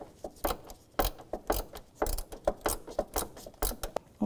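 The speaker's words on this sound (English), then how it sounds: "This is a 7 millimeter socket on this clamp." A ratchet fitted with a 7 mm socket clicks quickly and repeatedly, close up, as it loosens a hose clamp at the intercooler while a 2001–2007 Volvo V70 radiator is replaced. The strokes fall in an even rhythm with no talk.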